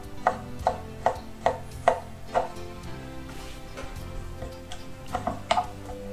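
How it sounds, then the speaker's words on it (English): A knife chops lean beef knuckle into small pieces on a board, giving a steady run of sharp, close thuds at an even rhythm, then a pause and a few more quick chops near the end. "chop it into small pieces"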